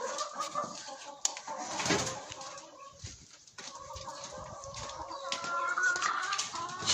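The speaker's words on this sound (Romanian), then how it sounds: "Găinile, gâsca." Chickens cluck and call in a sunny farmyard with a goose nearby, a steady, moderately close chorus of overlapping bird sounds and no talking.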